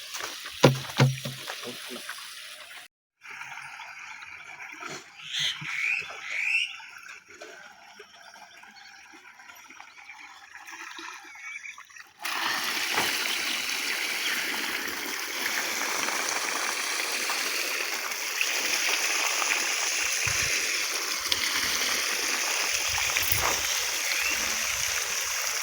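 Water splashes and trickles steadily as drinking water is collected in a village, a continuous wet rushing that grows louder and fuller partway through, with quieter handling sounds before it.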